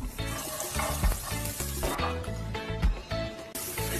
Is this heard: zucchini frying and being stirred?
yes